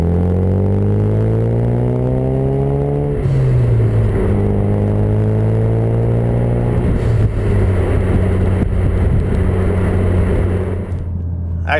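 A Ford Focus RS with a MagnaFlow stainless steel 3-inch cat-back exhaust and 4.5-inch polished tips revs up with a deep, rising drone, then settles into a loud, steady rumble close by.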